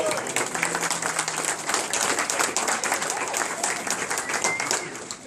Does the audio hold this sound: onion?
no